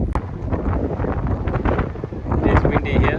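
Wind buffets the microphone during a climb up Mount Jim on the Australian Alps Walking Track, a steady broadband roar with rising gusts toward the end.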